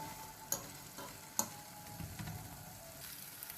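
A shrimp and potato omelette gently frying in a pan, a faint low sizzle with a couple of light clicks from the utensil against the pan, quiet and without speech.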